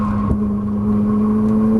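A Ferrari 458 Italia engine drones at high revs on a race track, a loud, steady tone that holds without a break for under two seconds.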